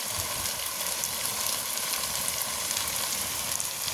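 Spice paste sizzles steadily as it fries in a pan, a close, continuous crackling hiss without pauses.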